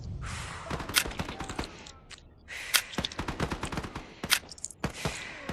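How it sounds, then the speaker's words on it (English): Gunfire in the VR extraction shooter Contractors Exfilzone crackles in rapid bursts of sharp shots, some close and loud, others more scattered, with short pauses between volleys. "Opening fire."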